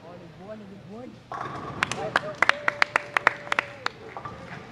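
Applause and sharp claps from spectators at a women's and men's bowling world cup, building into a run of loud distinct claps over a commentator's continuous voice.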